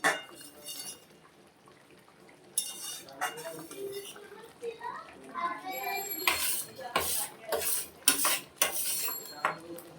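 Pieces of katla fish being turned one by one in a pan for doi katla bring sharp clinks and scrapes of a metal spatula against the cookware, coming in clustered bursts after a quieter start.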